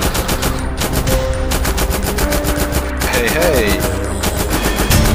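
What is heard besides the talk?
assault rifle firing in a zombie survival video game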